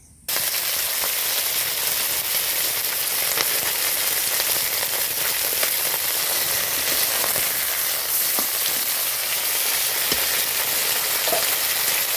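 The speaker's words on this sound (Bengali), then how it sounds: "এই ঝাল দেওয়ার জন্য মাছটা ভাজা হচ্ছে" Fish frying in hot oil for a spicy Bengali curry, in a home kitchen: a dense, steady sizzle and crackle begins abruptly and continues loud and unbroken, with scattered pops and no talking.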